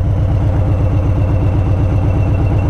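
Harley-Davidson Street Bob with a Stage 1 setup idling in neutral near 1000 rpm: a loud, close, deep, lumpy exhaust pulse with a steady rhythmic throb and slight surging, running without any voices.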